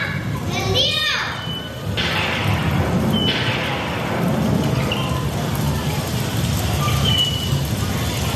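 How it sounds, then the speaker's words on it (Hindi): A heavy downpour is staged during a children's play at a school annual function. A steady, dense hiss of rain runs throughout, partly masked by children's lively voices and chatter over it. "ये कैसी मूसलाधार बारिश शुरू हो गई"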